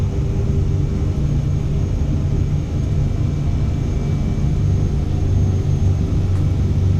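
Steady, loud low jet rumble of a Cirrus Vision Jet G2 accelerating on its takeoff roll in Microsoft Flight Simulator, a continuous engine drone with a faint high whine and no talk.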